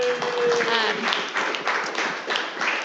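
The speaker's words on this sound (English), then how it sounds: "that's exactly huge round of applause" A crowd applauds with a dense wash of clapping that holds steady throughout, and a voice briefly speaks over it at the start.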